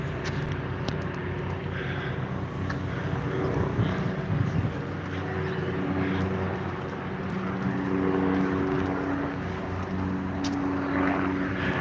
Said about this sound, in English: Here's these damn helicopters. They're news helicopters from Detroit